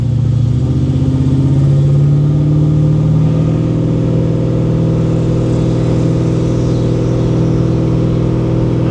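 A Chevrolet Monte Carlo SS with a newly installed transmission cruises at moderate speed, its engine giving a steady, close, droning rumble that dips slightly early on and then holds even, with no talk.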